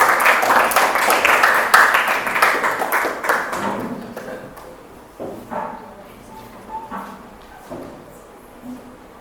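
Students in a classroom clap for a group presentation, a lively burst of applause that tapers off after a few seconds into scattered claps and talking.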